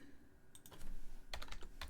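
Keyboard typing on a computer, with a burst of rapid key clicks and a second flurry a moment later, close and clear over a quiet room, with no voices.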